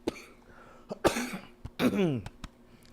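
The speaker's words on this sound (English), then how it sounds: "Sorry about the coughing." Several sharp coughs and throat-clearing bursts come in quick, uneven succession, close to the listener.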